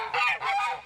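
Two loud, close honking calls from geese squabbling in a serious fight, each call harsh and sustained, with a short break between them.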